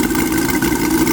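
Twin UMS 5-55 radial aircraft engines running together, a steady, loud, throbbing drone held close up, nearly in sync, with no voices.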